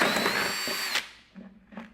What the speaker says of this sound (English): let's drill some holes first